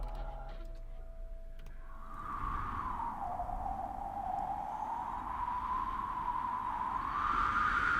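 Arctic wind howls as a thin, rising and falling whistle over a low rushing hiss, faint at first and then swelling steadily, with no talk.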